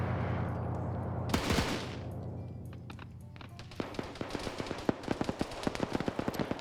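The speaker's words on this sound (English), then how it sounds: "Trying to put shots on that gunner." Machine gun fire during an ArmA player-versus-player match in a Cold War era setting, distant rapid cracking shots that build into a dense run of sharp bursts after a loud nearby thump.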